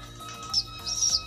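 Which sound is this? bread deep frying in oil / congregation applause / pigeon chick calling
pigeon chick calling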